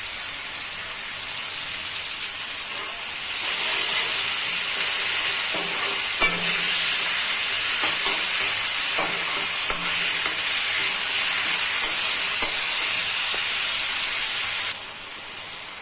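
Garlic and ginger paste fries in hot oil while being stirred during a sponge gourd and local fish recipe, giving a loud, steady close-up sizzle with repeated scraping stirs and no talk.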